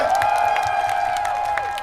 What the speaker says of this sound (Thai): ปรบมือดังๆ หน่อย